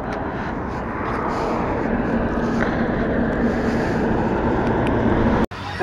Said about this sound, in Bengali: ছোট ট্রলার যাচ্ছে।